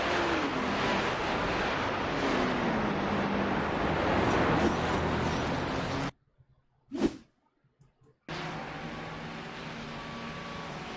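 Racing-game engines of a Porsche and a Ferrari battling at Bathurst drone and rev under steady load, then cut out briefly to near silence before the engine noise returns.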